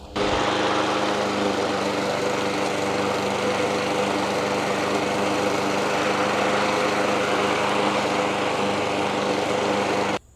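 A lawn mower cuts overseeded grass, its engine holding a loud, steady, close drone from start to finish with a bright high whine and no voices, then cutting off abruptly at the very end.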